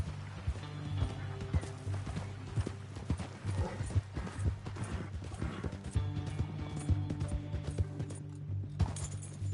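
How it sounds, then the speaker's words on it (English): Steady clip-clop of horse hooves in the Red Dead Redemption game, a busy running rhythm of hoofbeats that holds throughout, with bits of in-game character dialogue over it. "Hold your horse there."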